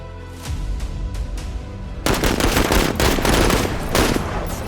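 Gunfire in the Menace video game, a few sharp single shots followed by a dense, loud burst of rapid automatic fire with repeated cracks over a continuous battle din.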